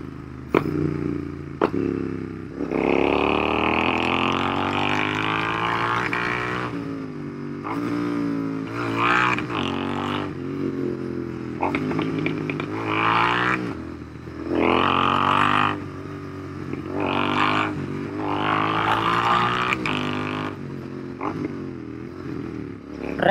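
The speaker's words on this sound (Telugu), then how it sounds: "మీరు రెవ్ మ్యాచ్ చేస్తే సౌండ్ కూడా అమేజింగ్ వస్తుంది" A motorcycle downshifts repeatedly with rev-matching blips and engine braking, its engine note rising sharply then falling in a series of surges over about twenty seconds, loud and close, with no voices.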